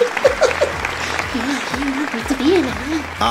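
A crowd cheers and applauds in Splatoon 2 gameplay during a Splatfest match, steady clapping and cheering under gliding, warbling game effects and a voice speaking over it.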